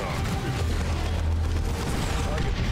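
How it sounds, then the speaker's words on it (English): Grenades detonating in the game Warhammer 40K: Dawn of War 2 Chaos Rising, a steady low rumble of blasts and battle noise under someone talking throughout. "A few grenades should deal with that."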